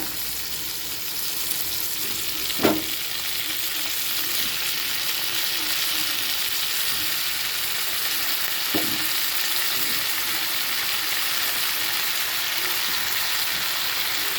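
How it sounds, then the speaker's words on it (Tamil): Cut brinjal sautéing in hot oil in a pan for brinjal sambar, giving a steady, even sizzle throughout with a couple of sharp stirring knocks from a spoon against the pan. "ரெண்டு நிமிஷம் எண்ணெயில் கத்திரிக்காயை வதக்கி விட்டுக்கலாங்க"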